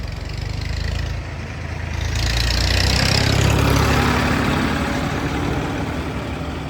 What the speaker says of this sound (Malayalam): എസ്റ്റേറ്റിൻ്റെ ഒരു ട്രാക്ടർ ഇങ്ങനെ തിരിഞ്ഞു വരുന്നുണ്ടോ